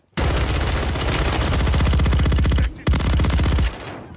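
Loud, rapid automatic gunfire from Call of Duty Warzone rattles in a long sustained burst, pauses briefly, then resumes before cutting off, with no talk over it.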